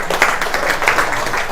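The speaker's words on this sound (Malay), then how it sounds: "Tepukan untuk MC kita pada hari ini." Audience applause for the MC at a Healthy Way cell therapy and Mirelle ST product testimonial event, a short burst of steady, dense clapping from a crowd, fairly loud and continuous without talk.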